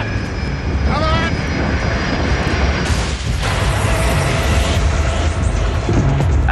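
A fixed-wing airplane's engine roars loudly and continuously near a crash site, a dense mechanical drone that holds steady throughout with no clear talk.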